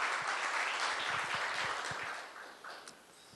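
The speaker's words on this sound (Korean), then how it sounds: "큰 박수 부탁드리겠습니다" Applause from the audience at a CEO forum as a guest professor is welcomed on stage, a dense wash of clapping that holds steady and then fades out toward the end.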